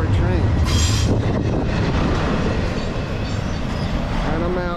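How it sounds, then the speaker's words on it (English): Rumbling roar of a short train rolling along the tracks nearby on the Lehigh line, loud and continuous, with a brief high squeal early on. "that's a short train"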